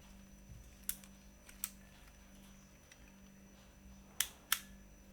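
Sharp mechanical clicks in a quiet room from a restored 1961 Konica S2 camera: a pair of snaps early on, then two louder clicks near the end as the shutter is cocked and fired.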